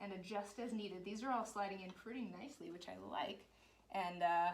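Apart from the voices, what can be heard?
No everyday noise stands out behind the speech.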